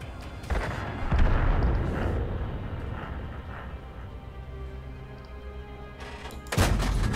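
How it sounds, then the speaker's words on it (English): Heavy booming tank cannon fire and rumbling blasts in the World of Tanks battle game, a deep thud at the start and another loud shot near the end with low rumble between. "They're shooting at us."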